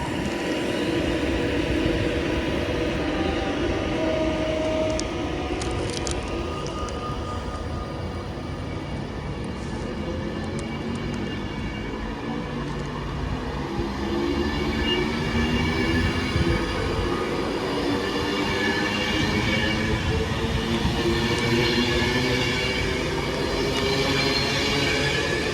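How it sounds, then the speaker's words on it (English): Class 90 electric locomotive 90047 pulls out of Wigan North Western bound for London Euston, a steady continuous rumble and rolling clatter of wheels close by, with no voices. "Three 90047 heading off to London Euston"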